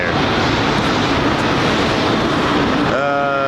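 Airplane at London Heathrow Airport, a loud, steady broadband jet engine roar close by that holds throughout, with a tonal whine rising near the end.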